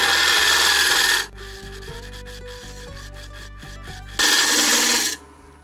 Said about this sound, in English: I'm gonna go down in there with the scraper and I'm gonna scrape that bottom and smooth it out.